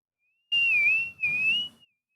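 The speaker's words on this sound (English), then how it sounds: "Make sure you have a whistle." A whistle blown in two short shrill blasts, the second following a brief gap, clear and isolated against silence.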